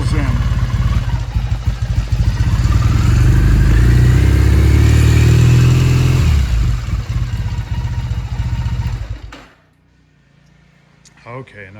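A 2001 Triumph Bonneville motorcycle engine runs on choke, rising to a loud revving drone that holds, eases off, then shuts down to near silence before a few clicks, with someone talking over it.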